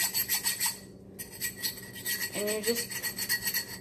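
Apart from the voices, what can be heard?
sanding a cut glass bottle with a foam sandpaper block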